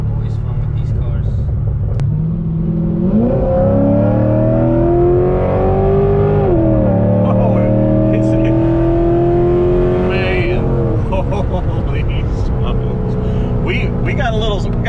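A Corvette Grand Sport accelerates hard with its tires spinning, the engine roaring close and loud as it climbs through rising pitches with audible gear shifts, while people talk over it.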